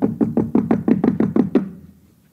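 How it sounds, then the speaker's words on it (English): A door being knocked on by hand: about nine firm, evenly spaced knocks in a quick run, loud and close, ending in a brief fading resonance with no voices. "the knock keeps getting louder"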